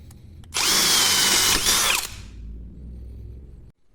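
A Parkside Performance PABSP 20 Li C2 cordless drill bores with an 8 mm bit, giving a loud high whine for about a second and a half that winds down to a low rumble, close up and with no speech.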